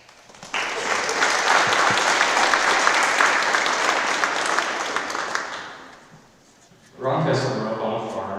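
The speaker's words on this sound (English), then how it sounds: "Please help me give Jaden a round of applause" Sustained applause from a banquet audience at an FFA event, a dense, loud burst of clapping that fades away before a second round of clapping swells up again.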